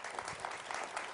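A television studio audience applauds, a steady wash of many hands clapping at a moderate distance, even and continuous throughout with no break.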